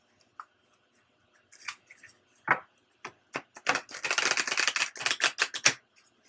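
Tarot cards being handled and cut, a run of crisp papery slaps and riffling clicks, sparse at first then a dense close flurry, with no talking.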